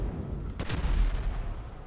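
Weapon fire aimed at a helicopter in Grand Theft Auto 5: one heavy boom-like shot that rumbles over steady loud game noise, close and alone with no voices.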